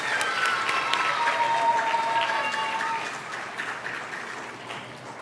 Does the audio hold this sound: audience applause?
yes